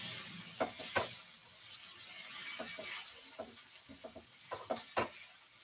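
Vegetables stir-fried with adobo and garlic seasoning give a soft steady hiss, broken by intermittent scraping and clicking of a utensil against the pan, with no talking.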